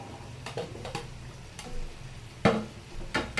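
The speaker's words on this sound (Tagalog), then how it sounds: "Lagyan na natin yung mga gulay. Sayote at saka carrots." Chayote and carrots are stir-fried in a pan: soft sizzling under scattered scrapes and taps of a spatula, with one sharper knock near the end.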